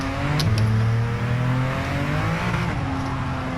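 A 2017 Ford GT's engine in Gran Turismo 7 holds a loud, close, sustained drone, its pitch falling and shifting under engine braking as the car slows.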